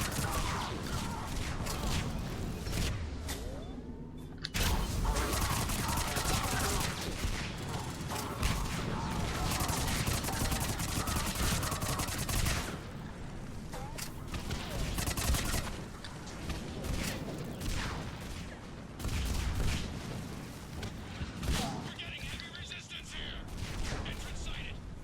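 Game gunfire in Mass Effect Legendary Edition, with repeated shots and bursts alongside mechanical clatter and explosions, comes loud and busy throughout, with talk mixed in.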